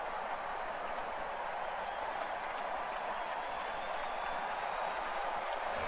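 A huge crowd of tens of thousands at the Metrodome roars and applauds steadily during a Yankees–Twins playoff baseball game, a dense continuous wash of clapping and cheering heard from a distance.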